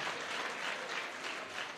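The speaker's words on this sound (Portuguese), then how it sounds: "vamos aplaudir a Jesus" A church congregation applauds steadily, a dense continuous wash of many hands clapping throughout, loud and close, with no voices standing out.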